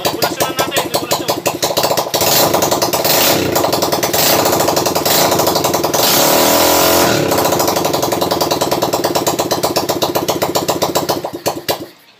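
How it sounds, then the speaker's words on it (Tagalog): A loud engine running without an exhaust muffler, bare and not installed in a vehicle, roars steadily at close range, its rapid pulsing exhaust raw and harsh, briefly rising in pitch before settling and cutting off. "napandar na natin at maingay lang dahil walang tambutso pero yung makina is smooth"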